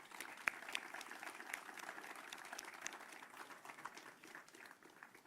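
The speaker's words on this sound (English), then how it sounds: "Let's give them a round of applause." A round of applause rises from the audience at a Veterans Day ceremony in Moreno Valley, a faint, steady patter of many hands clapping at a distance.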